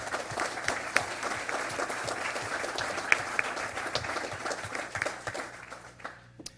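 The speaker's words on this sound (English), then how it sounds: "that deserves a round of applause" Steady round of applause from an audience at a town council meeting, sustained dense clapping for the whole stretch that thins slightly toward the end, with no talk over it.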